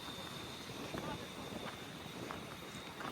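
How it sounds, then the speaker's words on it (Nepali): Wind blowing steadily across the long Susta suspension bridge, a continuous broadband rush with buffeting on the microphone, heard outdoors with faint movement and distant voices. "यी मजाको हावा चल्यो"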